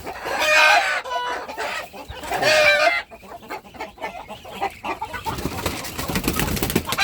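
Native chickens cluck and call loudly nearby, with a couple of strong squawking bursts followed by softer, scattered clucking and shuffling.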